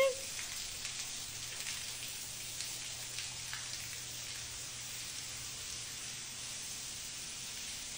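Steady rain hisses continuously, a dense patter of drops on a surface, even and unbroken throughout.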